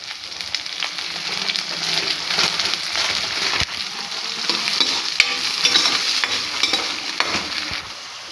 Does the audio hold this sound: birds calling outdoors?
no